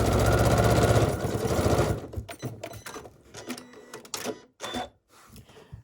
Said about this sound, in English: And that's the last of our sewing.